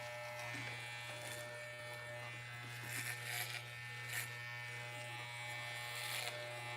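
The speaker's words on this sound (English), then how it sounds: "I told my boyfriend I was shaving my head." Electric clippers shaving a person's head, a steady low mechanical buzz running continuously at moderate level, with brief rises in rasping texture as the blades move through hair.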